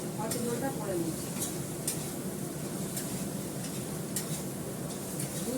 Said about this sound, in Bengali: একদম অল্প তেলে রান্না, মাছ ধরে যেটুকু তেল বেঁচেছে তার মধ্যে মাছের ঝোলটা করে নিচ্ছি।